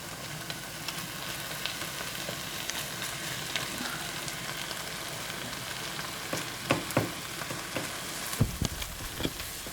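Chopped vegetables frying in a pan for shepherd's pie, a constant crackling sizzle with scattered pops and scraping stirs that grow busier and louder toward the end.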